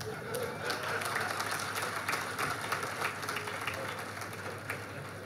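Audience applause during a Malayalam sermon by a church bishop: a dense, sustained patter of many hands clapping, moderately distant in a large hall, with faint voices underneath.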